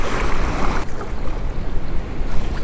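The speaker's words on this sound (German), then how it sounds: "Pfeift der Wind." Strong wind gusts steadily over a sea coast while someone spin- and fly-fishes for sea trout in changing weather. It is a loud, continuous roar and rush of wind with no speech.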